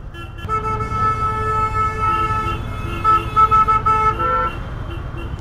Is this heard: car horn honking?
yes